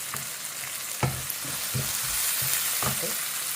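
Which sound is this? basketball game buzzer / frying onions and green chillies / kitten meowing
frying onions and green chillies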